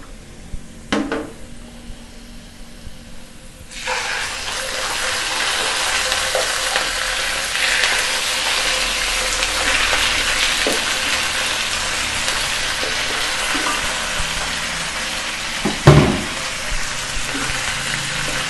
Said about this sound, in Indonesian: setelah bumbunya harum kita masukkan ayamnya